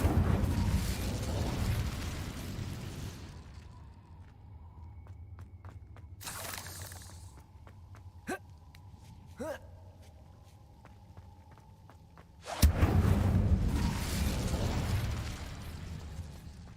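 Incendio fire spell cast in the Hogwarts Legacy game: a loud whooshing fiery burst at the start, a quieter stretch with scattered clicks and pops, then another loud roaring blast near the end.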